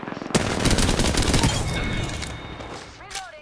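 Rapid automatic gunfire and weapon shots from an Apex Legends firefight, a dense loud burst of repeated shots with impacts that fades slightly toward the end, with voices faintly mixed in.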